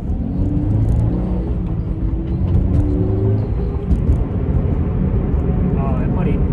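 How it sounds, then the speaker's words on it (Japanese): A 2.0-litre Subaru BRZ GT with a six-speed manual transmission accelerates on the road, its engine revving up with a rising whir and a rumble beneath, while someone talks over the sound throughout. "とてもね、トルク感もあって、エンジンの方もね、よく吹き上がります。"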